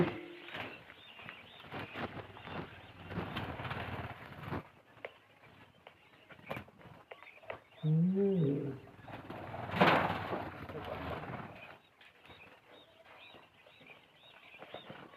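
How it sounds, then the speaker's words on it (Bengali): Birds call at a quail farm with a few coo-like notes, one rising warbled call clearly audible partway through, over scattered pattering and a low hum. "কিছু পাখি"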